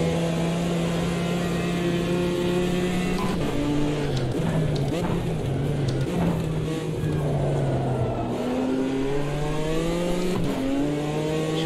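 A BMW M4 GT4 race car drifts in Automobilista 2, its engine note droning steadily and shifting pitch up and down as it slides, loud and continuous, with a voice occasionally over it.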